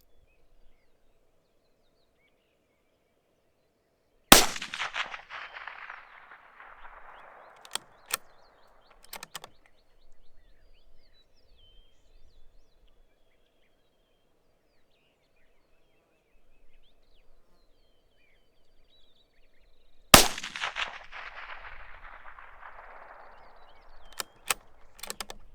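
Two sharp, loud shots from a Bergara BMR .22 WMR rifle, about sixteen seconds apart, each with a ringing decay in a quiet outdoor setting, plus a few faint clicks between them.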